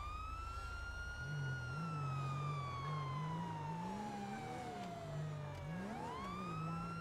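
A police car siren in a GTA roleplay game, a loud wailing tone that sweeps slowly downward and then climbs again, over a low rumbling engine hum, with no talking.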